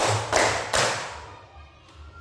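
Hands clapping during a classroom counting game: two sharp claps in quick succession, then a fainter third after a short gap, with no talking.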